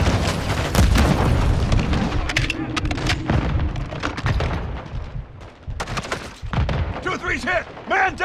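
Grenade blasts and gunfire in the game Call of Duty Modern Warfare II, heavy booms and rattling shots in dense, loud succession with shouted game voices mixed in.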